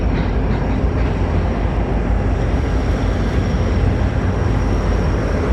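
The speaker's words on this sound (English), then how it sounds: "Oh, train noise." A train passes at night in downtown Shreveport near Riverview Park, a loud, steady rumbling roar with rail clatter that holds constant throughout, close by and with no talking.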